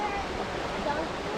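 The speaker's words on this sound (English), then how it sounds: "Got these waterfalls, this river just down the bottom of it." Waterfalls and the river below them at Rolling Stone free camp pour out a steady, close, broadband rushing wash of water that never lets up.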